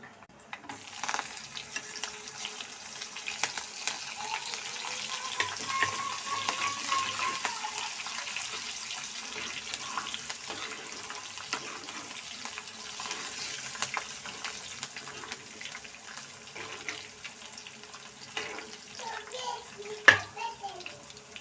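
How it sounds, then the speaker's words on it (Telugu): Green chillies fry in hot oil in a pan while making Telugu buttermilk curry, giving a steady, close sizzle and crackle that runs throughout with occasional stirring clatter toward the end. "ఇవి కొద్దిగా వేగాక పచ్చిమిర్చి వేసుకోవాలి."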